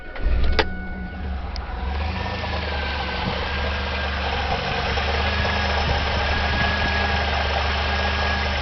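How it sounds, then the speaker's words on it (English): A Chevrolet Camaro engine idles steadily after a cylinder 1 misfire repair, a smooth continuous rumble heard alone from start to finish after a brief click. "Let me start her up and I'll show you how nice she's idling."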